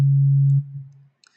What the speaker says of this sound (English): And by default, you get this sine wave.